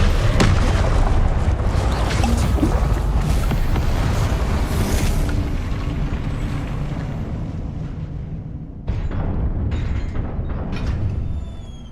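The Incendio fire spell in Hogwarts Legacy erupts in a loud, sustained roaring blast that fades over several seconds, followed by a second sharp burst and more rumbling.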